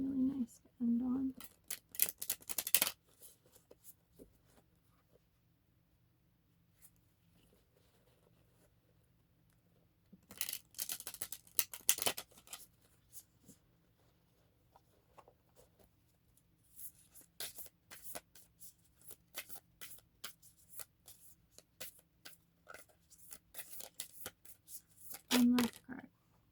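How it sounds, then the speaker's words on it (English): Oracle cards are shuffled and drawn, giving soft riffling and sliding bursts at the start, middle and end with quiet handling between, while someone talks at times. "I'm gonna pull one more card from the Rose Oracle just to sum it up."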